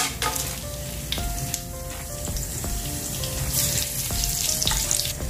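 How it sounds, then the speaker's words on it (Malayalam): Whole cinnamon, cloves, cardamom and fennel seeds sizzle steadily in hot oil and ghee for a Thalappakatti-style beef biryani, a loud continuous crackle with occasional sharp pops and clinks, no talking. "നമ്മുടെ ഓയിലും നെയ്യൊക്കെ നന്നായി ചൂടായി വന്നിട്ടുണ്ട്. ഇനി നമുക്ക് ഇതിലേക്ക് സ്പൈസസ് ഇട്ട് കൊടുക്കാം."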